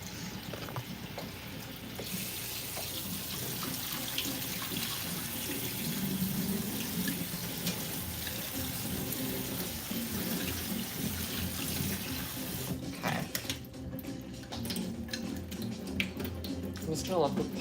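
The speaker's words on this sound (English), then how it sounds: "The pasta is being rinsed." Water runs steadily from a kitchen tap as cooked pasta is rinsed in the sink, a continuous close rush with someone talking over it, cutting off briefly before resuming.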